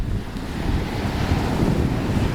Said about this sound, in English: There goes Anne with her first steps into the Pacific Ocean